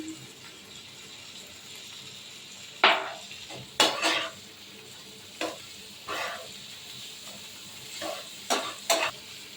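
Grated garlic, green chilli and turmeric go into a cooking pan, with a scraping spoon and a soft sizzle; several sharp clinks and stirring strokes come at irregular intervals over faint background frying.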